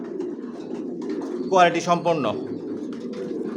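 Adult racing pigeons coo in a close, throaty burst at a pigeon seller's loft, with someone talking steadily over them.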